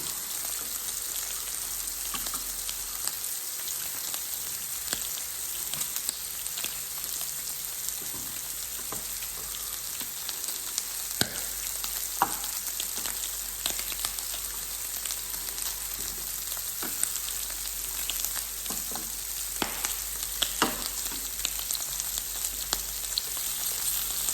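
Pork sizzles and fries on a Thai mookata grill pan, a steady close crackle with scattered pops and faint stirring sounds throughout.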